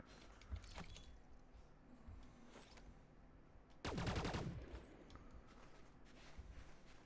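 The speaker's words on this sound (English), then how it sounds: "I like this gun. Sounds nice." Gunfire from a weapon in the space game Elite Dangerous: a sharp, dense burst of rapid shots near the middle that rings out loudly and then fades, set among faint scattered clicks and quiet background noise.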